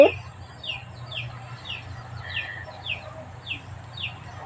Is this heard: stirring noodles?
no